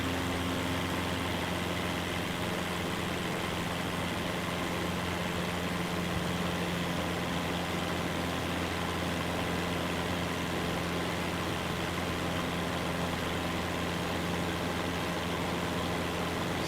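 Aircraft engine held at maximum RPM in Microsoft Flight Simulator 2024, a steady, loud, droning hum with a constant low tone that runs unbroken and unchanging for the whole stretch, with no voices over it.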